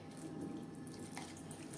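A small splash of water is poured into a mixer grinder jar holding partly ground chana dal, green chillies and ginger. It is a faint, brief trickle close by, with no speech.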